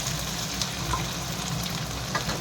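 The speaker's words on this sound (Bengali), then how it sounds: "টমেটোটা লাল লাল লাল করে ভাজা হয়ে গেলে" Chopped tomatoes fry in a pan for Bengali-style ghugni, giving a steady close sizzle and hiss with occasional faint stirring scrapes, uninterrupted and without speech.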